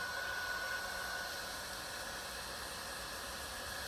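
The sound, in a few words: heat gun heating a tarp patch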